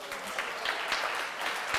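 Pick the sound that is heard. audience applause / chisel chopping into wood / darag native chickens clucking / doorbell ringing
audience applause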